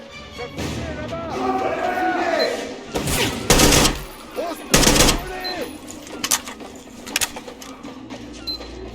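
Gunfire in the video game Metro Exodus, heard as several loud bursts of automatic shots amid game sounds, with someone talking in between.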